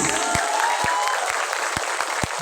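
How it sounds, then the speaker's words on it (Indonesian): Applause rises from a crowd at a Maulid Nabi religious gathering, sharp claps falling in a steady, evenly spaced rhythm about twice a second over a soft background. "Tepuk tangan"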